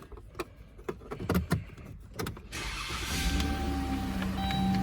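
A 2017 Dodge Grand Caravan SE: several sharp interior clicks and taps come first, then the engine fires and settles into a steady, moderately loud run.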